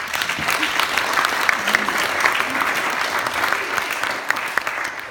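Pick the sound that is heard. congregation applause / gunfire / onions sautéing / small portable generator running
congregation applause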